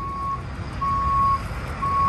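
A big truck reverses at a motorcycle week event in Laconia, its backup alarm giving steady, evenly spaced beeps over a low engine rumble and outdoor background noise.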